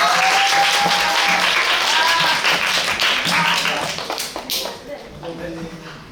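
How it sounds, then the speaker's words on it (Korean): Cinema audience at a movie talk event in Myeongdong CGV clapping to welcome two actors onto the stage, a dense burst of applause that thins and fades out toward the end. "박수로 맞이해 주세요"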